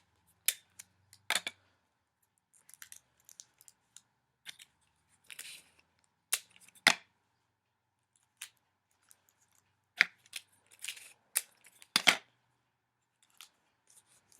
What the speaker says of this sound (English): So I'm going to put tape in 5 or 6 places.